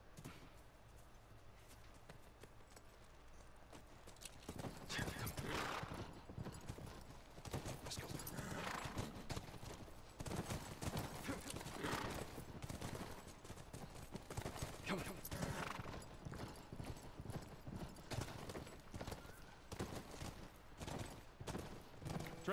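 Horses walking in the video game The Last of Us Remastered, a run of rhythmic hoof clip-clops that starts after a quiet opening and carries on steadily, moderately close, with a voice talking over parts of it.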